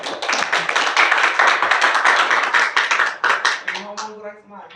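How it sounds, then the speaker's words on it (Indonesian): A small group claps in a room, with sharp close handclaps in a quick uneven patter that fades after about four seconds into a voice speaking. "Oh, tepuk tangan."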